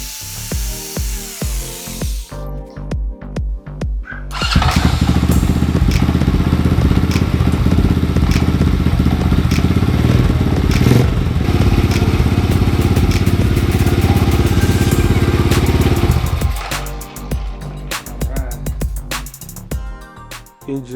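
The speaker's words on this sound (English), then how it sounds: "Engine fired right up and seems to be working just fine" A small engine bolted to a 10 gauge steel plate mount fires up and runs loud and steady for about twelve seconds, then cuts out, with workshop clatter and thumps before and after.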